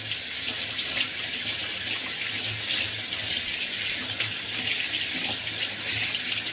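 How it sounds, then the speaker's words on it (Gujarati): Tap water runs steadily over a cloth bundle of homemade paneer held beneath it, producing a continuous close splashing hiss with no break or voices. "આવી રીતના પાણી નીચે રાખવાની છે ને આમાં ફેરવતું જવાનું છે"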